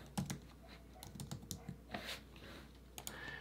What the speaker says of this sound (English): And we'll type motivation again.